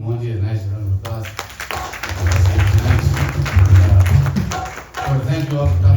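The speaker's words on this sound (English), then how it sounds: "I want to give Mohanji a nice round of applause." An audience at a Gita Yagna memorial gathering gives a round of applause, with crisp clapping rising after a second and running for several seconds while voices carry over it.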